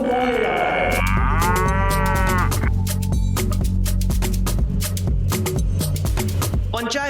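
A buffalo moos loudly and at length, a drawn-out bellow with rising and falling pitch over a steady low drone, followed by dense clicking and clattering noise.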